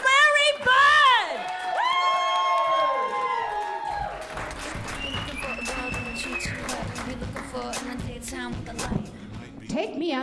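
A comedy-club crowd at a girls' night out show greets comedian Mary Byrd with loud whoops and cheers. Shrill tonal calls ring out at the start, then settle into a steady, close roar of cheering.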